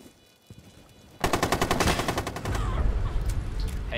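Rapid automatic gunfire in the video game Rainbow Six Siege, a loud sustained burst of fast repeated shots that starts abruptly after a quiet moment and carries on to the end.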